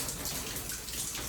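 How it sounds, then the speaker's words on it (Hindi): Water falls steadily onto a machine in a home, a continuous close splashing patter with no break. "अच्छी भली मेरी मशीन के ऊपर पानी गिर रहा है"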